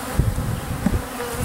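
About 10,000 honey bees from a package being installed into a hive buzz in a dense, close, continuous drone with slight wavering swells, no voices over it.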